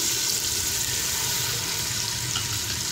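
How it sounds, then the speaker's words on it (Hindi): Water poured into hot masala with turmeric and salt in a frying pan, a loud continuous hiss and sizzle that holds steady throughout, close up with no talk. "एक प्याली में इसमें पानी ऐड करूंगी"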